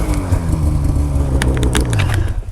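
Snowmobile approaching on a snowy slope, a loud continuous engine drone with a rough mechanical roar that holds steady and close for a couple of seconds.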